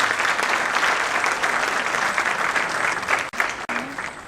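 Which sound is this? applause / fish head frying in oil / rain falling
applause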